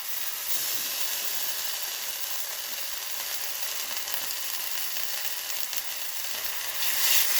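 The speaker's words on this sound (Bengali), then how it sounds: "মশলাটাকে আমি ভালো করে ভেজে নেব" Ground onion, ginger, garlic and chilli paste fries in a pan with a loud, continuous hissing sizzle that stays nearly steady and swells a little at the very end. No one speaks.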